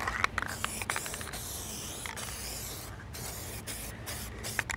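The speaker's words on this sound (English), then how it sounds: "maybe I'll spray down a little bit through this grill so as to hopefully not have a problem" Medium gray SEM bumper coater aerosol spray paint hissing steadily through a grill, a close continuous spray with short bursts and pauses, no talking.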